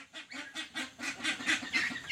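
Broiler ducks on a farm make a rapid run of nasal honking quacks, about eight pulsing calls in two seconds from a group close by, with no talk.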